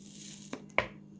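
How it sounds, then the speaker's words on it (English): A sneaker's bottom sole is pulled away from the midsole in two sharp, close tearing rips about a quarter second apart, the second louder, against a quiet room. "Bottom sole probably gonna peel right off."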